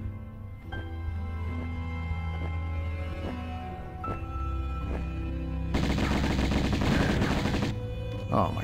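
Video game gunfire in Tomb Raider Remastered, with several evenly spaced single shots over a music bed followed by a dense rapid burst of automatic fire, loud and close.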